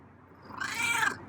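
A feral cat gives a single drawn-out meow that swells and rises over a quiet background, close and fairly clear, with no talking.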